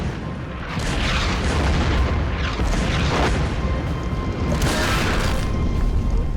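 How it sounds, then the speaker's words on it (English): Artillery shells bursting all around during a WWII tank battle in Tunisia, a continuous roar of heavy booms and rumbling blasts, several sharper explosions standing out from the dense barrage. "Non-stop shells hitting in the front, the back, to the left, to the right."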